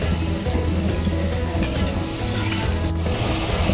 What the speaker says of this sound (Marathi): गुलाबजाम तळताना ते मंद आचेवरच तळायचे आहेत